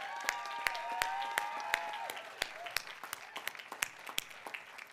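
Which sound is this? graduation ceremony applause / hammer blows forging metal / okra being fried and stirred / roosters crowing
graduation ceremony applause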